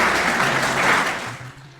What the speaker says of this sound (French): nous vous demandons de l'applaudir très chaleureusement